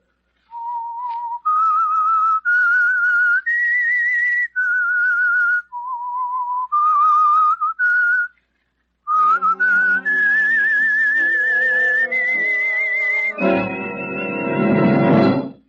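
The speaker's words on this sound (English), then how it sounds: "That whistle is your signal for the Signal Oil program" A loud, clear whistled tune plays alone, a sequence of held and gliding notes with a short pause midway, ending in a rich sustained chord.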